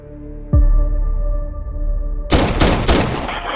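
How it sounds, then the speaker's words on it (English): Gunshots ring out down a street: a single sharp crack followed by a sustained low rumble, then a dense, loud burst of rapid overlapping shots in the final second, with no talking. "I'm hearing all kinds of gunshots down the street from my house."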